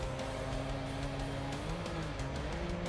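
Rally car engine droning steadily up close on a desert stage, with shifting tones as the vehicle slides and loses control, loud and continuous throughout with no talk.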